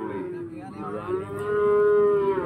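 A Pegon cow lows at a busy cattle market in Glenmore, Banyuwangi, one long, loud, close moo that swells toward its end with no talk over it.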